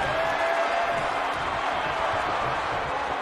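Virtual wrestling arena crowd in WWE 2K19 IMPACT Wrestling Universe Mode, a dense, steady roar of cheering and applause filling the whole stretch at high, constant loudness.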